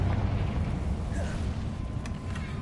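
Rumbling explosion from the Confringo spell in the Hogwarts Legacy video game, a continuous low roar with a few sharp crackles near the end, loud and without talk.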